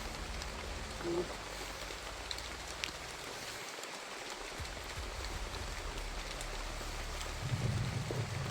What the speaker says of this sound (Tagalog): Oh, umuulan.